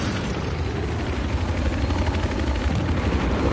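A helicopter in a multiplayer shooter match drones steadily, a dense rotor and engine rumble that holds at a fairly loud level throughout, with possible gunfire mixed in underneath.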